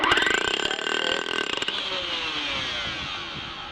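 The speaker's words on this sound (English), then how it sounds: "I'm going to pull the trigger and I'm going to flick the drill as if you got a bind" A heavy SDS Max concrete drill roars loudly for about a second and a half, then its bind-detection cuts the power abruptly and it winds down with a fading whine.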